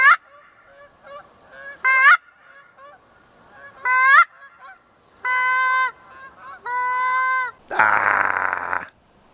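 Wild geese honk near a pond with decoys set out, a series of loud, close nasal calls in uneven bursts, with a harsher noisy squawk near the end.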